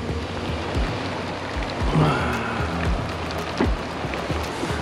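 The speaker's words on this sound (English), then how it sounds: "but crazy amount of rain." Heavy rain pounds steadily on a fishing boat on the Ouachita River, a dense hiss with scattered louder drops and a low rumble, no voices.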